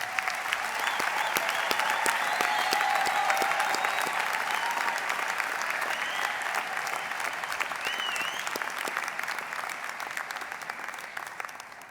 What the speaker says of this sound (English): let's congratulate the graduates once more with a round of applause